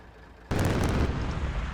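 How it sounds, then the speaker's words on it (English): A 23mm rapid-firing cannon in the war game Combat Mission Shock Force 2 erupts suddenly into a loud sustained burst of fire lasting about a second, then rumbles on. "23mm rapid firing cannon."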